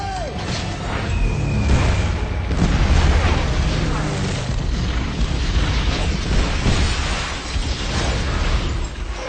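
Aerial bombs dropped from warplanes explode in a war movie scene, a dense, continuous rumble of booming blasts and crashing debris that stays loud throughout, with voices shouting beneath the roar.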